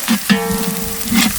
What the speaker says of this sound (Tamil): வெங்காயம் பச்சை மிளகாய் இஞ்சி பூண்டு பேஸ்ட் நல்லா வதங்கிடுச்சு.